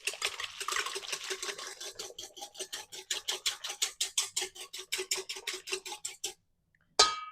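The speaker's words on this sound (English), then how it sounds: "So we're ready to whisk in our 2 egg yolks." A whisk rhythmically beating two egg yolks into activated, bubbly yeast in a bowl for Spanish bread dough, rapid regular strokes clicking against the bowl, then a brief pause and one last scrape.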